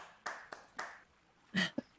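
Several sharp clapping sound effects on a radio show, spaced in a rough rhythm, close and fairly loud, followed by a short burst of other studio noise.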